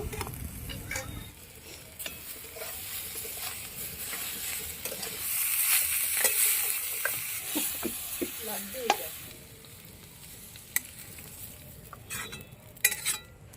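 Kohlrabi stems fry in a pan and are stirred now and then. A soft sizzle runs underneath, broken by occasional utensil scrapes and sharp clicks against the pan, nearby and fairly quiet.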